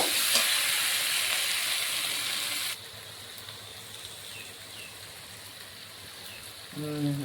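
Spiced potato curry sizzles in a pan on a stove, a loud hissing fry that suddenly drops to a quieter, steady simmer.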